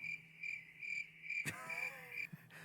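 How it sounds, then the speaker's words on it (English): Crickets chirp in steady, evenly spaced pulses, a quiet looping insect sound effect broken briefly by a short sharp click partway through. "The crickets. The crickets."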